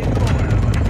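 A chopper gunner killstreak helicopter from Modern Warfare 2 gives a loud, steady rotor drone with a rhythmic chop and deep low rumble, close and continuous through the whole short burst.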